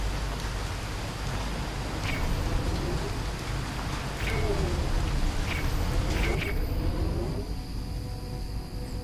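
Steady rain from the video game Portal Revolution, a constant close hiss of drops on surfaces with a few faint higher game chirps before the rain cuts off near the end.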